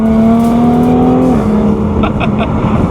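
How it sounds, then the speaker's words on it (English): A high, steady supercharger whine from a Jaguar F-Type S rides over a loud engine, dropping in pitch as the revs ease off. "The supercharger on this absolutely screams. The whine on it is brilliant."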